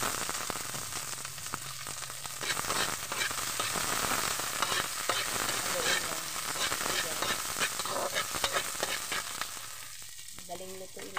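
Tomatoes sauté in a pan with a loud, continuous close sizzle and crackle, broken by occasional stirring scrapes, with no voice heard.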